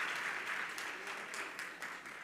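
An audience claps during a religious discourse session with a Jain monk, a steady spread of hand claps that stays fairly even and slowly fades in level.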